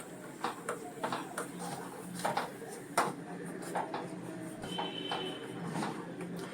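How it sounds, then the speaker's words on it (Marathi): Sugar stirred by hand into banana-flour porridge in a pot, with a spoon scraping and knocking in a quick, uneven rhythm of close clicks and scuffs over a soft steady background. "ढवळते मी हाताने"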